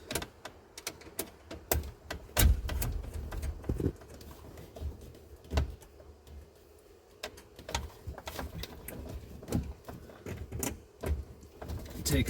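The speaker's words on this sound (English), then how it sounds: "You just need a 3/8 wrench. Quick pop those nuts loose." A 3/8 wrench loosening the amp gauge nuts behind the gauge cluster of a 1966-67 Dodge Charger: close, irregular metallic clicks and taps in uneven bursts, with a low muffled rumble in between.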